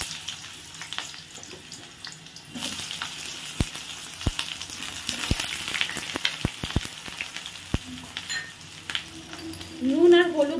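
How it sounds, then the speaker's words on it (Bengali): Long-cut eggplant pieces sizzle and crackle in hot oil in a pan, a steady close frying hiss broken by sharp pops and spatters, with a brief clink near the end. "নুন আর হলুদ দিয়ে বেগুনগুলো আমি একটু ভেজে নেব"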